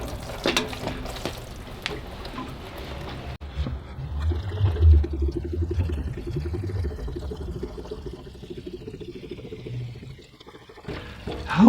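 Old fuel tipped out of a 1999 Yamaha 900S Diversion fuel tank, a low, gurgling pour and splash that swells and fades over several seconds, fairly close.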